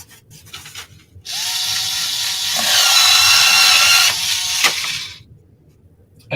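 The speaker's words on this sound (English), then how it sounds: "Oh, the skill saw." A skill saw spins up suddenly and runs loud and close for about four seconds, its whine rising in pitch as it reaches speed, then winds down into near quiet.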